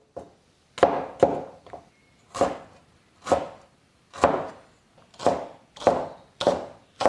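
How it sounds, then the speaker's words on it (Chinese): Scallion, celery, ginger and garlic are chopped into chunks on a cutting board, a close series of about ten sharp knife strikes falling in quick pairs and singles at an uneven rhythm, with no voices. "姜、葱、蒜也切成壳块"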